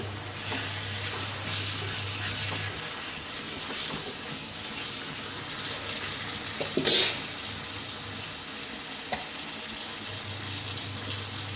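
Curry leaves are dropped into a pan of Kerala-style beef roast, giving a steady bubbling sizzle that flares into a brief sharp crackle partway through, then settles back to a soft simmer.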